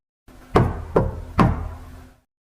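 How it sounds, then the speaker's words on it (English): Three soft knocks on a door, evenly spaced about half a second apart, each a dull close rap with a short decay, heard alone against a quiet room. "Pause, then another 3 taps."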